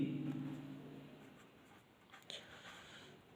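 Chalk or marker scratches across a board while a percentage problem is worked out in a maths lesson, a dense scraping strip that fades after the first second and then returns in a brief scrawl; no one speaks.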